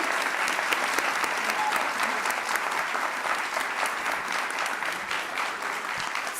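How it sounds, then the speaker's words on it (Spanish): Steady, enthusiastic applause from an audience, many hands clapping continuously at an even level throughout. "Le damos un gran aplauso a Teresa Paneque."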